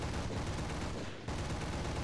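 Rapid aircraft gunfire in the War Thunder video game, a dense continuous burst of loud close shots with a brief dip before firing resumes.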